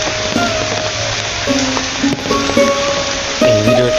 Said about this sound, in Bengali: একদম স্লো মিশনে বৃষ্টি হচ্ছে, ঝিরিঝিরি বৃষ্টি।